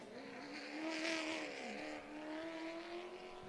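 A late model stock car laps the high-banked Southern National Motorsports Park oval in qualifying, a steady engine drone with shifting pitch rising and falling as it circles, heard from a distance.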